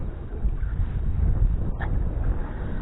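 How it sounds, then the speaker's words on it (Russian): Wind gusts across a lake during a fishing trip from a boat, a rough low rumble of buffeting that fills the whole stretch without a break. "Вообще, конечно, неприятный ветер."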